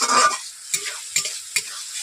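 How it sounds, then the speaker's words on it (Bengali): Ginger-garlic spice paste with a little added water stirred and fried in a kadai for a pangas fish dhoka dish: a soft sizzle broken by three sharp, evenly spaced spatula scrapes, loud and close, with no talk. "এভাবে কষিয়ে নিচ্ছি ভালোভাবে"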